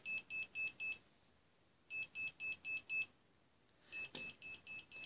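A clamp meter's built-in voltage detector beeps as it nears a live current, sounding three bursts of rapid, evenly spaced electronic beeps, each of four or five sharp tones, separated by short quiet gaps.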